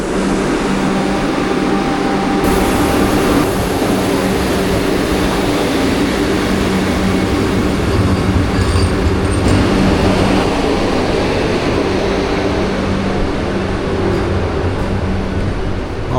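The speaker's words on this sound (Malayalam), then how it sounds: "നമ്മുടെ വന്ദേ ഭാരത് എക്സ്പ്രസ് ഷൊർണൂരിൽ നിന്നും പുറപ്പെടുകയായി" Vande Bharat Express pulling out of Shoranur station, a loud, steady rumble of train running noise with a constant hum, continuous throughout with no talk.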